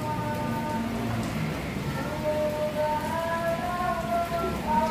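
Rain falls steadily on a collection of ornamental plants, a continuous, moderately loud hiss of drops with faint tonal chirping drifting through the background.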